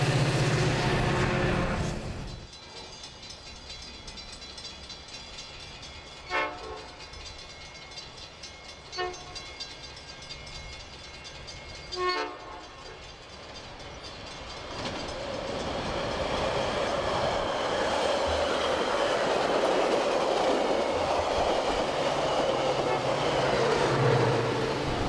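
A Chicago Metra commuter train on the Milwaukee West line passes: an initial rumble fades, three short horn blasts sound at intervals, then the heavy rolling roar of the cars builds and stays loud and close.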